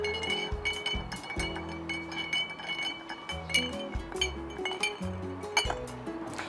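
A spoon stirs a gin cocktail with ice in a glass, producing a rapid series of bright clinks and rattling ice taps, close and distinct, with no talking.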